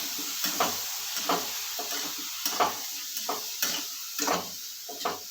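Soaked dried fenugreek leaves stirred in a pan with sautéed tomatoes, a spoon scraping in an uneven rhythm of about ten soft strokes over a steady, faint sizzle, close and fairly quiet.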